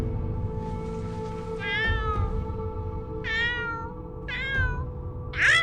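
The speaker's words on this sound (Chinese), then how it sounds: "野猫又出来吓人，就没一个安生的。" A stray cat meows four or five times in separate drawn-out calls over a low steady hum, in a drama scene set in an imperial palace garden; no one speaks.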